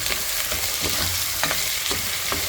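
Pork bones are stirred in a hot pan with sautéed onion, garlic and ginger, giving a steady loud sizzle with scraping strokes of the utensil at irregular intervals.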